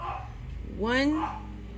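A single short dog bark rings out at mid distance, a brief yelping note rising in pitch over faint background noise.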